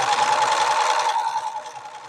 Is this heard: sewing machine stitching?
yes